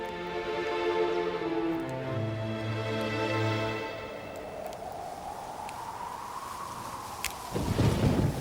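A long, deep rumble of thunder rolls and fades with wind noise, followed by a sharp, loud crack near the end.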